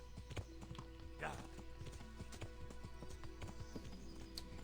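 Horse hooves clip-clop steadily in the video game Kingdom Come: Deliverance as the mount travels over a rocky switchback path, with a brief whinny and someone talking over the footfalls throughout.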